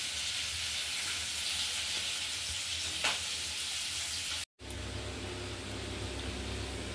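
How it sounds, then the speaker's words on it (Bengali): Potatoes sizzling steadily as they fry with spices in a pan, a continuous close hiss with a brief stirring clatter midway and a short break before the frying resumes. "এখানে আলু ভেজে নিয়ে মশলা দিয়ে কষাচ্ছি।"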